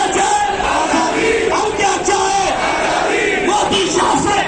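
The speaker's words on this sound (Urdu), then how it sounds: "زوردار انداز میں ناگپور میں نعرے بازی" A large crowd in Nagpur chanting slogans, a dense roar of many voices shouting together, loud and sustained throughout.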